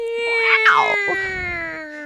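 A single drawn-out cat meow, rising then falling, over a steady electronic hum.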